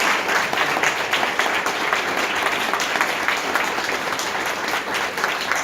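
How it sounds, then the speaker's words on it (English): Audience applause after a piano concert, a dense, steady crowd of clapping that carries on evenly for several seconds without pause. "a round of applause for our real stars"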